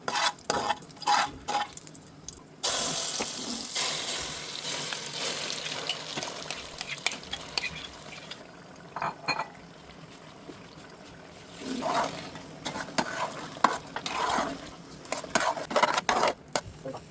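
Carrot halwa being stirred in ghee in a pan, heard as continuous close scraping and soft wet sizzling with scattered utensil clinks, fluctuating in intensity over a long stretch without talking.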